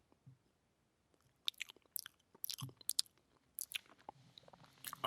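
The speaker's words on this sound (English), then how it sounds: "Right, I'll try that pasty." Someone chews and bites into a pasty close to the microphone, with crisp, crunchy bites and smacking sounds in uneven bursts between short quiet gaps.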